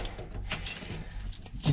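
Car keys jingle faintly at the ignition of a Morris Minor during a garage repair, a brief metallic rattle with light handling clicks and no talking.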